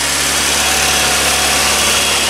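A 60-year-old vintage Triumph sports car idles steadily just after a one-crank start, a loud, close, even engine rumble with no voices.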